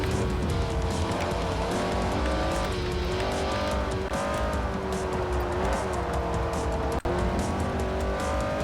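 Race car engine in Forza Motorsport 4 roaring loud and steady throughout, its pitch rising and falling through gear changes, with tire squeal mixed in and a sharp click near the end; no talk.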